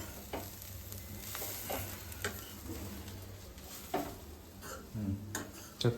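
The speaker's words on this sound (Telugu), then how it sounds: "కొంచెం మంట స్లోగా పెట్టుకొని దీని స్మెల్ అంతా పోయేదాకా దీంట్లో మనము ఫ్రై చేయాలి బాగా" Grated carrots for carrot halwa frying in a pan over a low flame, giving a faint steady sizzle broken by occasional scraping and stirring taps.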